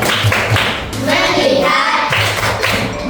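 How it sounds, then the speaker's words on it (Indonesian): Schoolchildren in a classroom perform a rhythmic concentration clapping routine, crisp patterned claps in short bursts with pauses between, loud and close, with young voices faintly mixed in. "untuk melatih konsentrasi kita kembali, terlebih dahulu tepuk konsentrasi"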